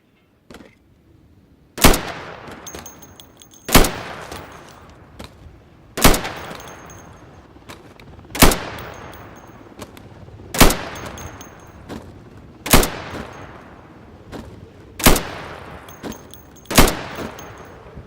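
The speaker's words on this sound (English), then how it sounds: "So you can shoot accurately over 20 feet with your sidearm." Sidearm shots at pop-up targets on a shooting range in the game Insurgency: single loud, sharp reports spaced about two seconds apart, each with a short echoing tail, with no talk.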